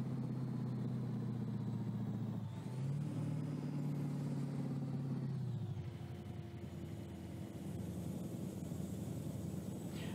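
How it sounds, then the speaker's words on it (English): A truck's engine brake holds it back on a steep downhill in American Truck Simulator, a continuous low droning rumble that shifts pitch partway through and then settles into a steady throb. "Yeah, I use the engine brake as much as possible."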